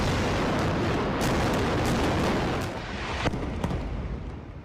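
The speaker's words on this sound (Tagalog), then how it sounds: "Yan ang sunod-sunod na airstrikes ng Israel sa Gaza kahapon." Israeli airstrike explosions in Gaza, a dense continuous roar of blasts with a few sharp cracks standing out near the end, loud and close throughout.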